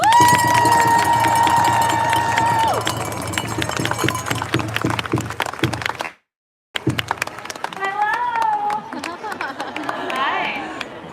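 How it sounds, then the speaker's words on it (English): Crowd applause and cheering greet a guest speaker from the Michigan ACLU at a live speak-out event, dense clapping mixed with chatter and scattered whoops, broken by a brief silent gap before resuming. "Please bring a warm welcome and round of applause to Lily Eggers from the Michigan ACLU."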